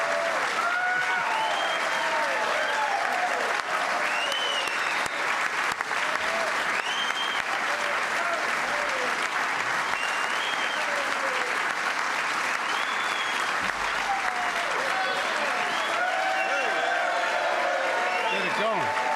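Audience applause at the health care bill signing ceremony, a long, loud, continuous roar of clapping from a big crowd, with voices calling and cheering through it.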